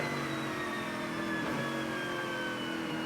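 A race car's wheels spin on a soaking wet track, a steady high engine whine with layered tones that hold and shift slightly over a few seconds, close and continuous.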